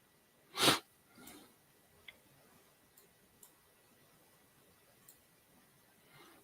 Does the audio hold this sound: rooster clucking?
no